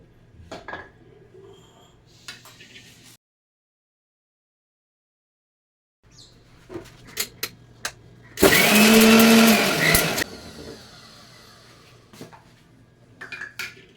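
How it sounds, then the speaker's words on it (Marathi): A kitchen mixer grinder whirs loudly through a short burst while grinding masala spices for green pea kachori, with light clattering of utensils before and after and a brief silent gap. "हा मसाला सर्व करून घ्यायचा मिक्सरला"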